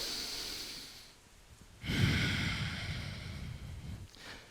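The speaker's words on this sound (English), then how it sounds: "Let's do one more breath here." Deep, slow breathing during an upper-back strength and shoulder mobility exercise, a soft inhale followed by a longer, fuller exhale, close and alone with no talking.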